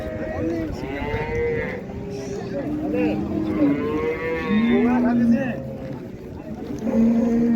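Several cows moo loudly and repeatedly, long drawn-out lows overlapping one another, with people talking in the background at a livestock market.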